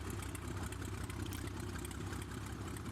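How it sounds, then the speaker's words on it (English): Simulated engine of a Cessna 185F Amphibian idling in Flight Simulator 2004, a steady low drone with a fast sputtering throb, even and continuous throughout with no talk. "I love the sound of the engine when it's just idling, kind of like sputtering."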